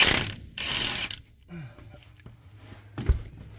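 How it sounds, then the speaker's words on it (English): A Milwaukee impact wrench rattles in loud bursts while removing tight transmission bolts on a 1979 Chevy C10, two ratcheting runs up close followed by quieter clanks and a final sharp knock. "these ones were torqued down real tight, so you gotta get your old Milwaukee out here"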